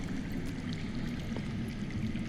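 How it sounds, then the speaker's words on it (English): Steady underground water flowing in a Game of Thrones adventure game, a continuous broad rushing wash with a faint trickling texture, even and unbroken throughout, with no voices. "I hear water. From underground."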